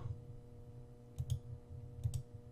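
Keys on a graphing calculator pressed in graph mode, a few soft, close clicks in small clusters over a low steady hum, with no talk.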